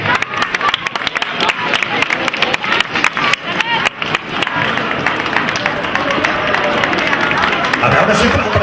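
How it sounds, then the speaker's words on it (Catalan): Strong applause from the audience at the Llançà 2009 pubillatge election ceremony, a dense, loud wash of clapping that swells and holds steady, with a speaker's voice over the start. "A veure si el rebeu amb un fort aplaudiment."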